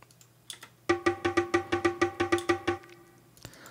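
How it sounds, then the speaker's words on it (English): A bongo rhythm in a house remix bounces back and forth across the stereo field, a dozen evenly spaced, crisp hand-drum strikes rolling at a steady quick pace before stopping, with scattered softer taps around it. "that bongo is just like bouncing back and forth"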